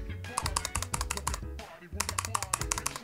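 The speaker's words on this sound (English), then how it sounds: "And they make the satisfying sound of a mechanical keyboard." Clicky mechanical-style buttons on a Snackbox Micro hitbox fighting game controller, pressed in quick bursts of sharp, close taps like a mechanical keyboard, with a brief pause in the middle.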